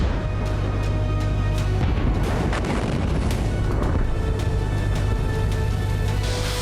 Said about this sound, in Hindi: अटैक होते ही यहां जोरदार धमाका हुआ और पूरे इलाके में धुएं का गुबार फैल गया